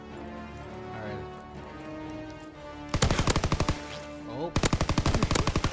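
A PPSh submachine gun fires in Call of Duty WWII, two rapid full-auto bursts of loud, evenly spaced shots following quieter game ambience, with a brief exclamation from a voice.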